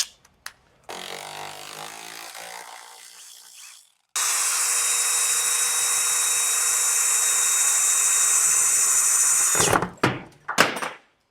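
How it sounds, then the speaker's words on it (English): A loud, steady high-pitched power drill whine drilling through a 1987 Suburban's firewall runs for several seconds, preceded by quieter scraping and followed by a few sharp knocks. "I got to drill a hole in the firewall"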